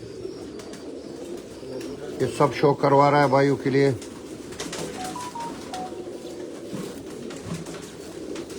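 Pigeons coo on a rooftop in a loud, close burst of rolling, repeated calls lasting a couple of seconds, while someone talks over and around them.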